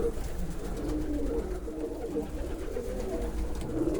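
Vienna pigeons in a pigeon loft give soft, low cooing that rolls on continuously, close and steady, with no clear talk.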